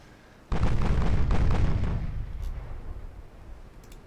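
A single heavy boom from battleship guns firing in a naval game hits sharply, then rolls out in a long rumbling tail that fades over a few seconds.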